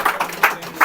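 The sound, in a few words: audience clapping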